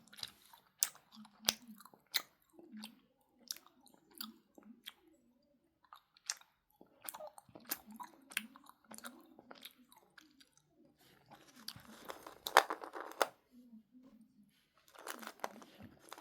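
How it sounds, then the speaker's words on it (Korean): Close, quiet mouth sounds of someone chewing thick, dense homemade jelly. Sticky squishes and soft smacks repeat irregularly over a long stretch, with a few louder wet bursts near the end. "엄청 꾸덕해서 많이 씹어야 돼요."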